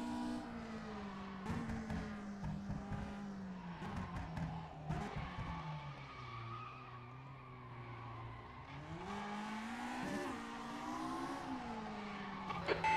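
A race car in rFactor 2, a BT20 on the Monte Carlo circuit, runs with a buzzing engine that drops and climbs in pitch as it brakes and accelerates, with short tire squeals and skids.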